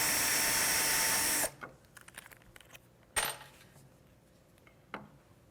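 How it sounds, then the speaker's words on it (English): A drill pre-drills a shallow pilot hole into half-inch wood stock, the hole first marked with an awl: a loud steady whir that cuts off abruptly, then quiet clicks, a short sharp burst and one more faint tap. "I'm pre-drilling just a shallow hole."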